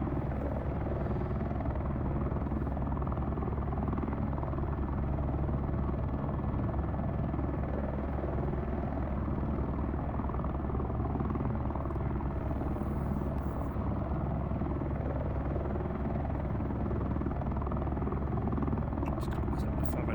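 Helicopter engine and rotor in a flight simulator game, a loud steady turbine whine over a dense rotor thrum that holds unchanged throughout, with someone talking over it.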